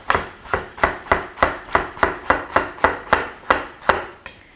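Celery being chopped with a knife on a cutting board, a steady run of about a dozen crisp, evenly spaced thunks, close and clear with no talk.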